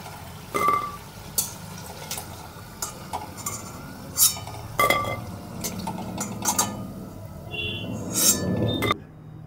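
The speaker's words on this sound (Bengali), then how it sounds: "এগুলো আমি তুলে নিচ্ছি একটা প্লেটে" Fried cauliflower fritters being lifted onto a plate in a home kitchen, with repeated light clinks and scrapes of utensils against dishware, moderately close, amid faint background sizzle.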